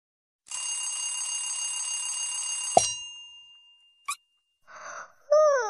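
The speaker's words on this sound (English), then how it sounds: "Alarm clock." A cartoon alarm clock rings loudly and steadily for about two seconds, then stops abruptly, followed by a brief bright ding and a few short playful tones in a children's bedroom game.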